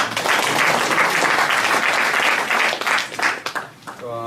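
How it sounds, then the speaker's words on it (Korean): An audience at a political forum in Goseong applauds a council member, a loud, dense burst of clapping that holds steady and then thins out into scattered claps as it fades near the end. "우리 신병선 의원님 다시 한번 박수 보내주십니다."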